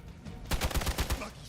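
A quick burst of about six sharp gunshots fires in rapid succession in the video game Marvel's Midnight Suns, loud and close against a low background hum.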